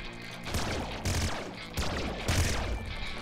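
Bursts of gunfire from weapons including a triple machine gun in the top-down shooter Nuclear Throne, arriving in four rapid clustered volleys over busy game noise, loud and close.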